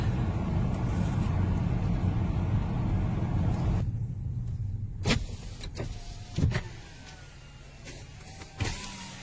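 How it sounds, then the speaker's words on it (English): A car hums steadily inside on Clinton Road as a power window whirs down, followed by a few sharp clicks and thumps as the cabin noise opens up. "We are rolling all the windows down"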